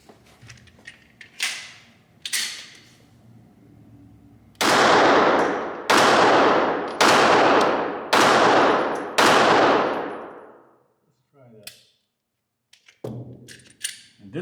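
Glock pistol shots crack out loud and close: two lighter reports, then five sharp evenly spaced shots with ringing decays, followed by softer clatter and handling noise.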